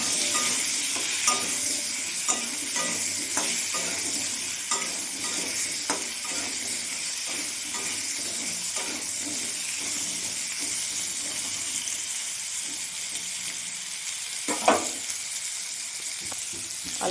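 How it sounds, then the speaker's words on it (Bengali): Potatoes fry in hot oil in a pan while a Bengali fish curry is prepared, giving a steady close sizzle with soft stirring scrapes and a sharper clatter near the end; no one speaks. "আলুটা আমি ভেজে নেব।"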